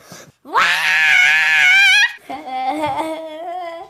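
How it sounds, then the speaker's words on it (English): A person lets out a loud, sustained scream lasting over a second, followed after a brief gap by a quieter, wavering wail, with no other sounds. "sometimes you just gotta scream"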